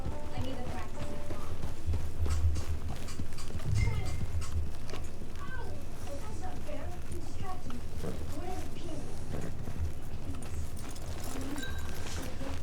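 Rhythmic horse hooves trot steadily on the ground in Red Dead Redemption 2 Online while a voice talks over them, with occasional rustling and background activity.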